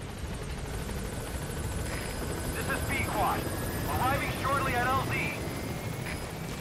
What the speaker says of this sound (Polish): Jestem ciekaw, jak szybko ten gościu przyleci na ostatnim levelu helikoptera.